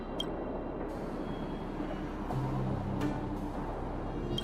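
A Fragmentum monster in Honkai: Star Rail gives off a continuous harsh static-like hiss, like white noise, with faint sharp crackles and tones mixed through it.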